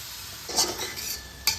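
Tomato paste cooks down with spices in hot oil, giving a soft continuous sizzle with a few stirring scrapes and one sharp utensil clink near the end.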